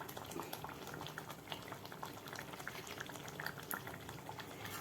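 Jackfruit payasam bubbling on the boil as a little ghee is poured in, a steady close simmer with faint popping and soft liquid splashes throughout, no voices.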